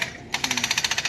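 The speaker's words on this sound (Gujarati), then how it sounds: "એના પાછળ છે ને બ્રેકર હાલે ને એનો અવાજ છે બહુ આવે હા જીસીબી હાલે" Hydraulic breaker on a JCB excavator hammering, starting abruptly and then pounding in a fast, even series of sharp metallic blows, loud and close.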